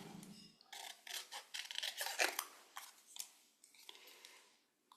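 Paper strips being trimmed for a holiday ornament with scissors or a cutter, a run of close, crisp rasping snips and rubs in quick irregular bursts, with no one talking.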